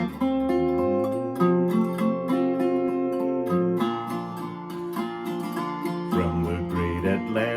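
A square neck resonator guitar, or dobro, played with a capo rings out in a short melodic passage, bright metallic plucked notes and sliding chords close and clear with no voices.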